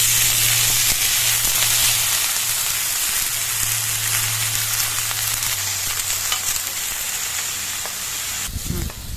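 Sliced ridge gourd fries in a pan with a steady, loud broadband sizzle that holds for the whole stretch, a low hum running beneath and a brief clatter near the end.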